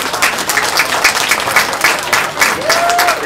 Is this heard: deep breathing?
no